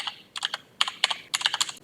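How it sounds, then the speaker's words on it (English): Computer keyboard typing out a web address for a network monitoring server setup, several quick clusters of crisp keystrokes close to the microphone with short pauses between them. "we will type in our URL"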